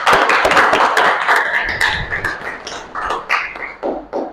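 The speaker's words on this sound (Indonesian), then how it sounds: "Luar biasa, kasih aplaus dulu untuk semuanya." Students in a classroom break into a brief round of applause, dense scattered claps that start strong and thin out into a few louder separate claps near the end.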